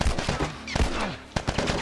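Gunfire in The Last of Us video game, several sharp loud shots in quick irregular bursts amid a busy in-game combat soundscape.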